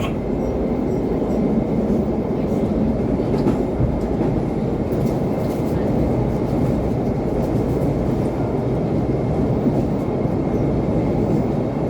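The Parahyangan passenger train rumbles across the Cikubang Bridge with a steady, loud roar of wheels on rails and faint clicks, heard from inside the carriage and continuous throughout.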